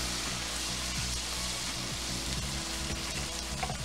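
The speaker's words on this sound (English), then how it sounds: "we're going to take a ladle of our broth and add it" Broth ladled into a pan of Parmesan risotto sets off a steady, dense sizzle and bubbling, with a few soft scraping stirs and no voices.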